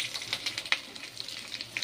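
Whole spices, cloves, cardamom and green chilli with onions hit hot oil for plain kuska, giving a quiet, crackly sizzle with rapid small pops and ticks.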